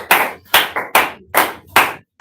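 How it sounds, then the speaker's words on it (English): Students in a classroom clap again in five crisp, evenly spaced bursts, loud and near, each fading quickly, ending in brief silence. "Clap for her again."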